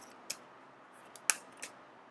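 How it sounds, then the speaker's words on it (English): Tarot cards being shuffled by hand, heard as a few sharp, separate riffling snaps against a quiet background, close and fairly faint. "I have to just shuffle until something pops out"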